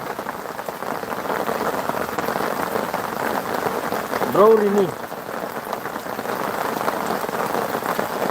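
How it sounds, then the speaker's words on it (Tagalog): Heavy rain falling hard and steady, an unbroken close roar of drops on surfaces, with a brief voice speaking briefly midway over the downpour. "Grabe yung ulan."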